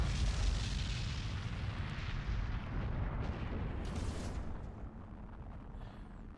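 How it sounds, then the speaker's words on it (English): Plasma bomb explosions in the space battle game Battlefleet Gothic Armada 2: a dense, continuous roar of booming blasts and rumbling detonations that stays loud throughout, with no talking. "They are throwing plasma bombs at us again."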